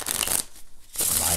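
Playing cards from a standard-style tarot deck being shuffled, giving two bursts of crisp riffling flutter with a quiet gap between, close and fairly loud with no talking.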